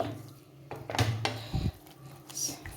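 Spatula scraping and clinking in a pan while mashed boiled potato with salt and turmeric is stirred into a poori masala curry: a few close, irregular knocks and scrapes with quiet pauses between.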